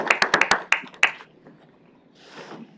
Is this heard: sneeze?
no